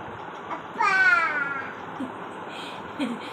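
A single drawn-out, voiced moo imitating a cow, about a second long and close, followed by a few faint short sounds.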